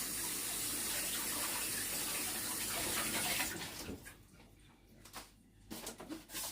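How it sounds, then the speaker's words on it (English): Hands are washed under a running kitchen tap, a steady close hiss of flowing water for about three seconds, then the stream stops and brief splashes and drips follow. "Now let me wash my hands."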